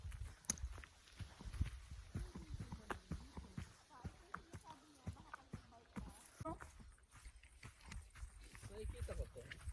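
Horses on a cabin property walk with scattered hoof clops and thuds, faint and somewhat distant, mixed with rustling and low background noise while people talk at times.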